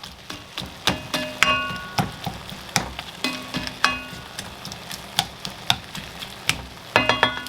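Ground meat for chili crackles and sizzles in a pan while a spoon breaks it apart, its sharp knocks against the pan coming in a steady, irregular rhythm.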